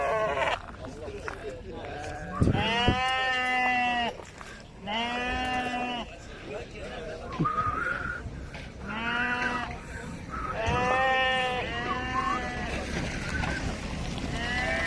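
Several sheep bleat loudly and repeatedly nearby at a livestock market, over a busy crowd murmur, with people talking in the background.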